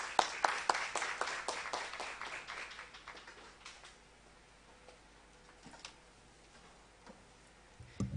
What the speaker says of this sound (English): So could you give her a round of applause